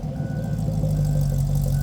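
A Chevy LS3 6.2 litre V8 swapped into a Land Rover Defender, running with a steady, deep, loud rumble close by and no speech.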